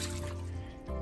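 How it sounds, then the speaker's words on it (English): Water is poured out of a travel mug being cleaned, a continuous close splashing pour that fades briefly before a final gush. "I pour the water out,"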